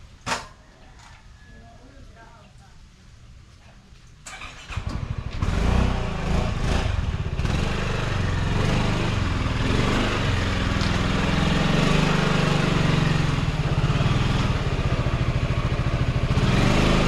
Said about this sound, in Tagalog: Ipapasok ko muna ang motor guys